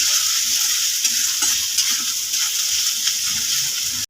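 Ginger and garlic paste with spices frying in a hot pan, a loud continuous sizzle with scraping stir strokes throughout, no voices.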